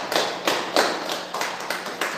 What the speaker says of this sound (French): Mon applaudissement très fort.